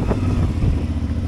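A motorcycle engine revs close by in a steady, rough burst during a road trip through Morocco toward the Sahara, with no talking over it.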